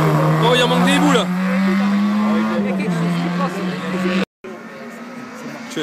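Fiat rally car engine at a rally stage, a loud sustained drone holding steady pitch then briefly cutting out before resuming, with voices talking over it.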